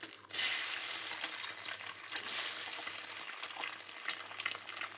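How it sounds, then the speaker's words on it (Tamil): Beaten eggs fry and scramble in a little oil in a pan for homemade noodles, a steady close sizzle with scraping stirs throughout and no voices. "எக் உடச்சி ஊற்றுறதுக்கு கம்மியான ஆயில் போட்டு நம்ம உடச்சி விட்டுக்கலாம்."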